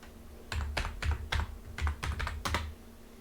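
Password being typed on a computer keyboard, a close burst of about a dozen crisp key clicks in short uneven clusters, with quiet gaps before and after.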